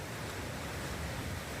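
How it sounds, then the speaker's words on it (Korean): Ocean waves give a steady, broad wash of surf noise, even and continuous throughout with no distinct breaks or voices. "배경 화면에 파도 소리가 들리고 푸른 바다가 보입니다"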